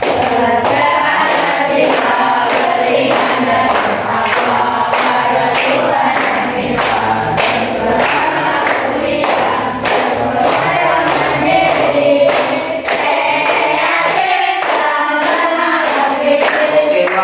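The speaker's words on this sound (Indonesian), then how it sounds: "Nanti sambil bertepuk tangan ya, biar tambah semangat, biar tambah kompak." A group claps hands on a regular beat while singing a song together, the claps steady and close under the voices for the whole stretch.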